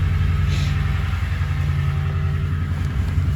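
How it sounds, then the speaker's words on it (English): A 2021 Toyota Land Cruiser engine hums steadily while driving, a continuous low rumble heard from inside without any talk. "So the engine is just a joy to listen to."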